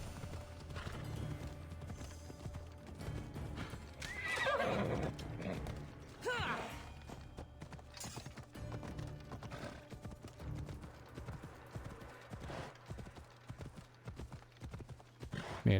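A horse in an Assassin's Creed video game trots with rhythmic clip-clop hoofbeats and lets out a loud neigh partway through, with a second whinny shortly after.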